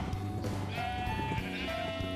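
Several sheep bleat loudly in a blocky Minecraft-style game after being sheared, their overlapping wavering cries continuous over a busy, layered background of game ambience.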